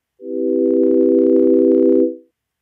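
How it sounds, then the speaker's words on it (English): A soft, sustained sine-wave synth pad swells up gradually from silence over about a second, holds steady at full volume, then fades away. "So it's going to take about a second to fade into full volume."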